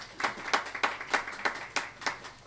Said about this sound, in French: Applaudissez alors pour eux.